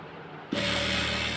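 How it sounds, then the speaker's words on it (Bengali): A sewing machine starts up abruptly and runs steadily, stitching a georgette kameez: a close, continuous mechanical whir with a faint rhythmic tick, following a moment of quieter room sound, with no talking. "যে কামিজটা আমি আপনাদের মাঝে কাটিং করে দেখালাম সেটা এখন সেলাই করতেছি"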